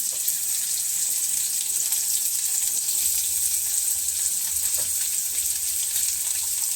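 Cumin, mustard seeds, green chillies and onions fry in hot oil, giving a steady, continuous sizzle with a bright hiss throughout and faint clinks of cooking beneath.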